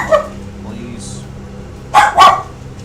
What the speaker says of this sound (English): Dude, you don't need to bark.